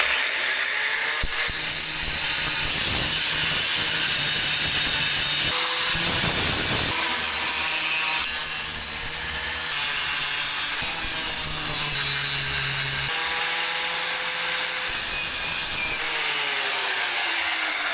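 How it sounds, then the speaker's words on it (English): Angle grinder fitted with a grinding wheel working steel bar stock for a vandal-proof mailbox frame, a steady loud abrasive whine with repeated passes and brief pauses, no voices. "I did get the grinder out with the grinding wheel on it for this."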